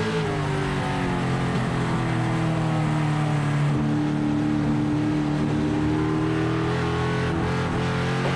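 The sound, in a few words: race cars on a short track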